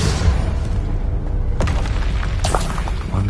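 Confringo fire spell exploding in the Hogwarts Legacy video game, a few dull booming blasts and bursts over a steady rumbling game soundscape.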